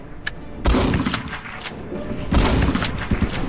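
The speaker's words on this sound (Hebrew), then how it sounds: "יריתי בו מלא יריות" Gunfire in the Roblox game War Tycoon, with loud bursts of rapid automatic shots at the start of the clip and again near the end, separated by scattered single shots.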